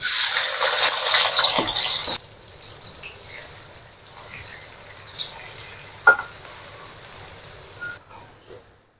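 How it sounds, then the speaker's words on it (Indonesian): Loud sizzling of anchovies dropped into hot oil, a bright hiss that settles into a quieter crackle with occasional pops. "Lalu digoreng."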